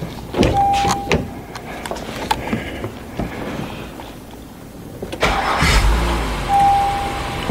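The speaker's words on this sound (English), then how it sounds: "So now let's go in the vehicle and start the engine." A 2016 Honda Pilot with a rough-running, high-idle fault is started from inside the cabin: a loud cranking burst catches into a low idle rumble near the end, after earlier door and switch clicks.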